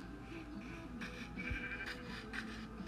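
Sheep in the Minecraft video game bleat in short, faint, repeated calls over a quiet background.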